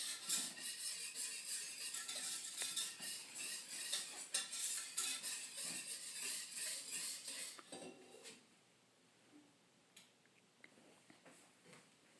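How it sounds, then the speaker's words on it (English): A utensil clatters and scrapes against a pot while Thai peanut sauce is stirred, busy and continuous for several seconds, then thinning to a few sparse clinks near the end, with no talking. "we want stirring the sauce as to not let the sugar sit on the bottom and burn"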